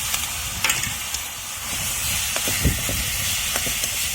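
Dal and spice mix sauté in hot oil for a Marathi village chutney, giving a close, steady hissing sizzle with occasional soft crackles and stirring scrapes.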